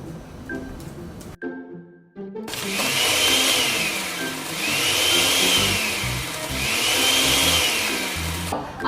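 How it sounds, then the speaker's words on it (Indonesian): A kitchen blender whirs as it blends oat milk with cold water. It starts after a brief quiet gap, then runs as a loud, steady motor drone with slow swelling pulses as the mixture churns. "Kita blender dulu."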